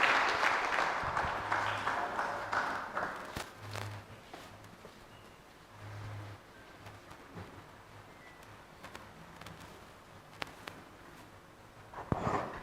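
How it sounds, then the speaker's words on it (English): A conference audience at an innovation week applauds after a presentation, with loud, dense clapping for the first few seconds that thins and fades into scattered claps, shuffling and a few footsteps. "Let us give our young boys a good round of applause."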